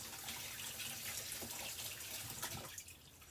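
Containers, one of them cracked and leaky, are rinsed under a running kitchen tap. A faint, steady broadband hiss of flowing water continues without talk and thins out near the end.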